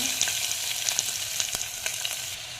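Mustard and cumin seeds crackle and sizzle in hot oil, with sharp pops scattered over a steady frying hiss, close up and with no talking.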